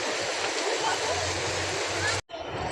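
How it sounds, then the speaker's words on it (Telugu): Water rushes out of a dam at the Valparai hill station, a steady broad roar of flowing water heard close and loud, with a brief cutoff near the end. "ఇక్కడ చూడండి, డ్యామ్లోంచి వాటర్ ఇటు సైడ్ పారుతుంది, అలా వెళ్ళిపోతుంది వాటర్."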